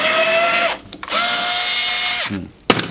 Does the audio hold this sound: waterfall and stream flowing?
no